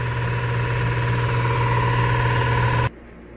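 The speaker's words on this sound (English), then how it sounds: "Shut off the air compressor." A steady, loud mechanical drone of an air compressor running in a plasma cutting shop beside a PlasmaCam 98z cutting 1/2-inch plate, humming continuously near the mic before cutting off abruptly near the end.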